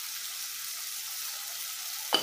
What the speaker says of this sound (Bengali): ভালো করে ফ্রাই করতে হবে